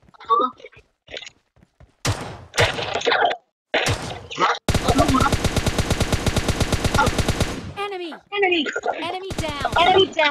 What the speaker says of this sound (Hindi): भाई तो गोलियों की आवाज आ रही है।